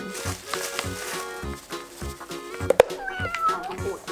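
A house cat meows several times in quick succession indoors, near a hamster cage whose bedding is being changed, over a steady background of other sound.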